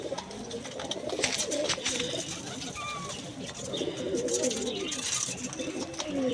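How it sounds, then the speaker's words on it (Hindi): Several pigeons coo in soft, repeated throaty calls nearby, with light rustling and faint chirps mixed in. "चौधरी वाले कबूतर है ये।"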